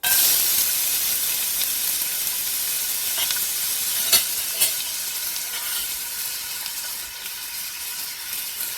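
Chopped onion fries in extra virgin olive oil in a pan, giving a steady, close, loud sizzle and hiss throughout, with a couple of brief sharper pops partway through and no talking.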